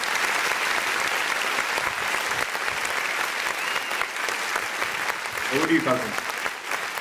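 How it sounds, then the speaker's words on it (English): Event audience applauding the evening's host, a dense, sustained wash of clapping from a large crowd throughout, with a voice speaking briefly over it near the end. "Don't let the applause stop."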